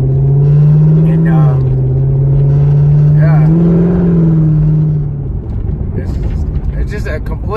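A Corvette's engine holds a deep, loud rumbling drone from inside the moving car, rising in pitch twice as it revs before easing back to a lower, rougher cruise; a voice speaks briefly.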